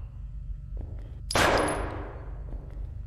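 A single sharp gunshot with a ringing, fading tail in a horror video game, standing out against a low, steady background hum.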